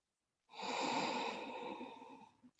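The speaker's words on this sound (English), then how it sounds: "5 long breaths." A long, deep breath drawn in and slowly let out during an evening yoga session, close and alone, starting after a short silence and fading with a small catch at the end.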